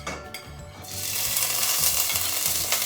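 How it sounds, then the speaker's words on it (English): Green onions and shallots hit a hot pan and break into a loud, steady sizzle after a quieter start, with light scraping of stirring underneath and no talking. "We're gonna add the onions."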